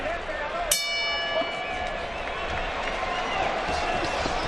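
A single boxing ring bell ending a round at a professional bout, one bright clang early on over a steady arena crowd roar and commentary.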